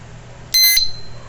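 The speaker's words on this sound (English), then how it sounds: "so if I close it, it tests its alarm, one beep." A motorbike alarm disc lock sounds a single sharp electronic test beep when closed, loud and close, about a quarter second long, then a faint ringing tail over quiet room background.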